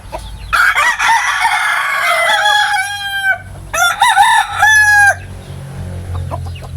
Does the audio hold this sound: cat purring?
no